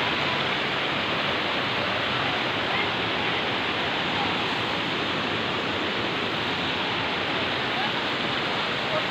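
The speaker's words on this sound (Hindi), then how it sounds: "छोटा छोटा पानी का झरना है" A small waterfall pours in a steady, close rush of broadband splashing water, unchanging and continuous throughout.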